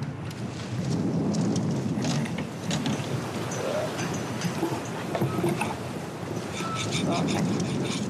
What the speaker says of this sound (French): un vent terrible là